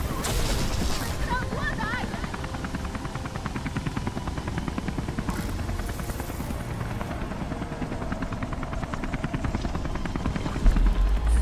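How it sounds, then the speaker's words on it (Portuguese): Helicopter in the video game Beyond: Two Souls, a steady rotor chop and engine drone running throughout, mixed with faint explosion-like bumps and game noise. "Cadê o helicóptero?"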